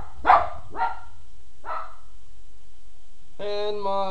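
A dog barks three times in quick succession, sharp and fairly close, followed by a short pause and then a sustained high-pitched tonal whine or whimper-like sound.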